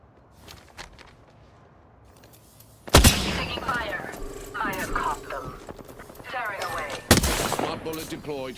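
Sudden loud gunshots in the video game Apex Legends, two sharp blasts separated by several seconds with rattling follow-up fire and in-game voice lines underneath, after a quieter stretch.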